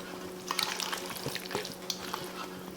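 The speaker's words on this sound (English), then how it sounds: "So let's just bring in the spatula, give it a stir" Potatoes in a pan are stirred with a spatula, giving soft scraping strokes over a quiet sizzle, close and fairly faint, with a few brief clinks.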